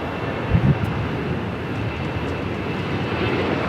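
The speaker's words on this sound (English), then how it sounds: "We also have Delta Airlines 528 767 300ER taking off to Atlanta." A Delta Airlines Boeing 767-300ER jet takes off from LAX, a steady broad engine roar heard from some distance, with a brief thump early on and the rumble continuing evenly to the end.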